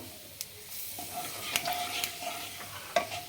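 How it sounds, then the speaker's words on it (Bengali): Whole cumin seeds crackle in hot mustard oil as a tempering for a cauliflower do pyaza, a close sizzling hiss punctuated by several sharp pops and spatters, with no voice. "গরম হয়ে গেছে আমার এরপরে গোটা জিরে ফোড়ন দিচ্ছি আমি একটু"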